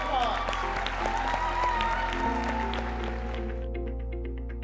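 Applause from an audience at a Detroit digital inclusion event, honoring a 16-year-old new high school graduate: a steady wash of clapping that holds at an even level throughout and thins slightly near the end.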